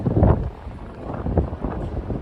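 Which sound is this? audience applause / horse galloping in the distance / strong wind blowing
strong wind blowing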